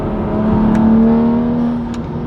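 A BMW N55 engine held steady at 4,500 RPM. It gives a constant, close, even drone with no change in pitch.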